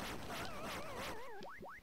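Pac-Man-style ghost sound effect from a TMNT video game: a wobbling, warbling electronic tone that sweeps up and down, then two quick rising chirps at the end, loud and clear with no talking.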